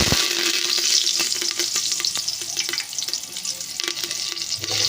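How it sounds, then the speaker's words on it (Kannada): Curry leaves sizzle in hot oil for a Kannada-style lentil stock curry, a loud continuous frying crackle with a few sharp pops and some stirring, close up and with no talk. "ಎಣ್ಣೆ ಕಾಯ್ದೈತಿ ಇದಕ್ಕೆ ಕರಿಬೇವು ಹಾಕೊಂಡು"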